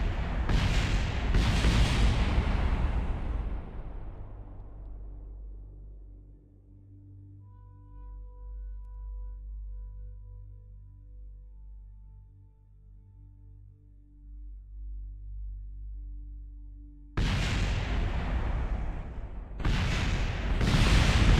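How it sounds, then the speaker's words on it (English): A spacecraft explodes in the game Kerbal Space Program, with heavy booming blasts that fade into a low rumbling tail and faint tones, then another loud burst of explosions near the end. "Well, now I'm exploding."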